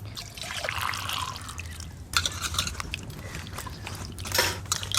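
Water trickles and splashes unevenly while spiny gourd (kakrol) is washed by hand, close by, with brief louder gushes and light handling noises and no voices.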